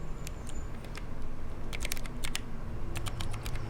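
Fingers type on an Atreus keyboard with irregular bursts of crisp key clicks, sparse at first and then quicker clusters, close up over a faint steady hiss.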